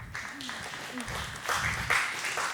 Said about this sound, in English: It's a nice little golf clap.